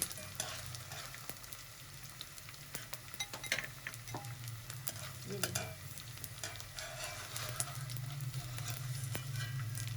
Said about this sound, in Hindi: सारी गोंद इसी तरह हम फ्राई कर लेंगे